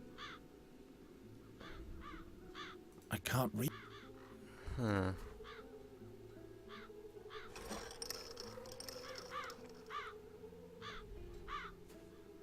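Crows caw repeatedly in the Chains of Satinav video game, harsh calls coming in short bursts at steady intervals against a quiet backdrop, with a voice briefly speaking over them.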